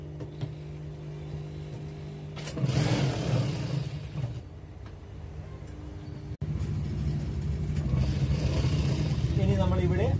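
A sewing machine runs in whirring bursts while double stitching a girls' school uniform coat, a close mechanical hum that starts, pauses, then runs again, with a voice talking alongside.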